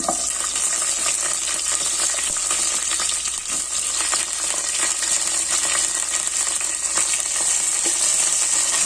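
Small shallots fry in hot oil in a pan for sambar, a loud, continuous crackling sizzle with occasional clinks and scrapes of stirring.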